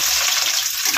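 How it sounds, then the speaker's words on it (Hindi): Chopped onions frying in hot oil in a pan, giving a loud, steady, close sizzle throughout. "प्याज जो काट कर रखे थे इसमें डाल देते हैं।"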